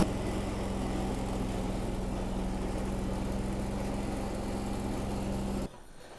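An old Cub Cadet 1210 hydrostatic garden tractor engine runs at a steady, low, even idle for over five seconds, then cuts off abruptly near the end. No voices are heard.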